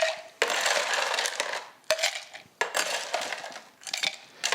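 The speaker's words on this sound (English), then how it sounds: "So to that we'll add a little bit of ice." Ice cubes clatter and rattle into a metal Boston shaker holding gin, several loud bright bursts of clinking and tumbling in quick succession, close up with no talking.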